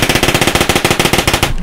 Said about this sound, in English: He grabs his Tommy gun and goes to just mow these people down.